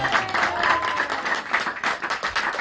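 An audience at a Big Island Harikatha festival claps for a birthday celebration, a short burst of dense, lively clapping from a crowd, fairly close and steady.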